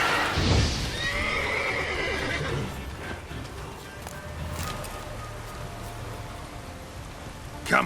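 Roach the horse in The Witcher 3 video game gives a whinny at the start, followed by trotting hoofbeats over steady rain, with a sharp clatter at the end.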